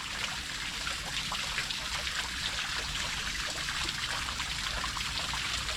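Water trickles and spatters down smoothed rock on the Fife coast, forming a natural shower: a steady, fairly faint patter and dribble that runs continuously without pause.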